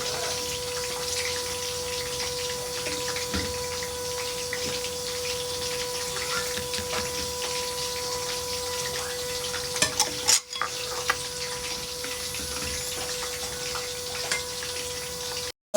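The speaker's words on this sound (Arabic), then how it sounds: "دلوقتي بقى هنطش الملوخيه" Hot tasha is poured onto Egyptian molokhia, giving a steady, close, loud sizzle with faint stirring and a brief clatter partway through, and no talking.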